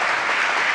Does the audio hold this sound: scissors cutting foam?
no